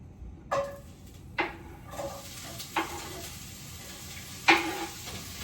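Quiet sizzling in a hot pan with several sharp clanks and scrapes of a utensil stirring, spaced a second or so apart.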